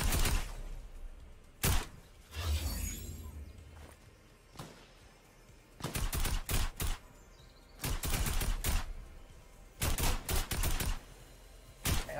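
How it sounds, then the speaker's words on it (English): Video game gunfire comes in bursts of sharp shots and rapid volleys separated by quieter gaps, with a few single cracks and some footstep-like movement in between. "I'm getting shot at, I can't right now."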